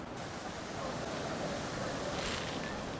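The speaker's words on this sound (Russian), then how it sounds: "есть ветер и на море волны" Sea waves rolling onto the beach at Batumi with wind buffeting, a steady broadband wash of surf and gusts, fairly distant and constant, no voices.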